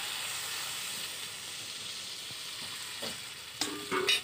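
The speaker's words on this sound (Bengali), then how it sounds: "এবার আমি জল দিয়ে দেবো, কষানো হয়ে গেছে," Water poured into a pan of spices already fried down for a thin tilapia fish curry with taro leaves, giving a steady, loud sizzle and hiss that swells into sharper steamy bursts near the end.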